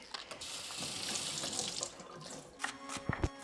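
Cavolo nero kale rinsed under a running kitchen tap, with a steady close rush of water splashing in a sink, then a few clinks and knocks near the end.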